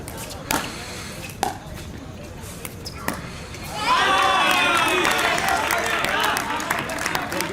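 After a few sharp racket and shuttle hits, a badminton crowd breaks into sustained applause and cheering that lasts to the end. It sounds full and somewhat distant.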